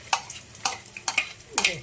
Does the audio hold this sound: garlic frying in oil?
yes